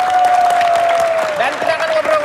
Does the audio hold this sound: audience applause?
yes